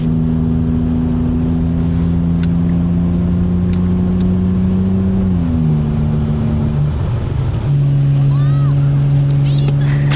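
Zhiguli car engine droning and shifting pitch while the car slides sideways on snow in winter drift practice, a loud steady hum that dips and jumps midway, with no talk over it.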